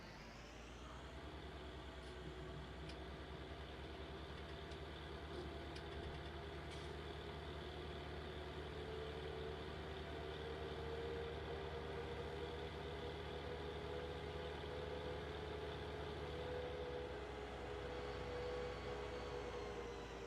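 Steady engine drone of a tractor in Farming Simulator 19, a continuous low hum with a slight pitch rise partway through, running alone at moderate level with no talk.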